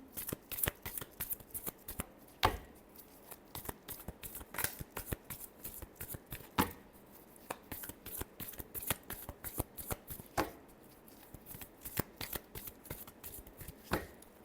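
Tarot cards being shuffled, with rapid riffling bursts and flicks repeating close and quiet in an uneven rhythm.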